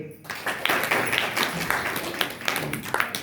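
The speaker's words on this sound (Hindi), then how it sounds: "इनके लिए ताली दें" A classroom audience claps for a student who recited a Ramayana verse, a short burst of mixed hand claps filling the room for about three seconds.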